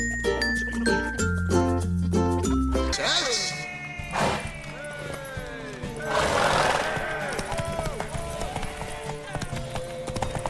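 A horse whinnies amid hoofbeats clopping in The Witcher 3 video game, with music at the start and a voice speaking over the scene.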